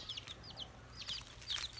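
Chickens cluck softly in a coop with newly hatched chicks, short high calls in scattered bursts over a low steady background hum, fairly faint.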